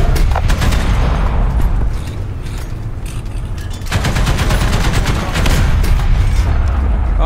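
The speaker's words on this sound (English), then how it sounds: "Shots fired." Ground battle gunfire in War Thunder: dense, loud bursts of rapid machine-gun fire with heavy booms rolling underneath, continuous and close, briefly dipping before another fast volley.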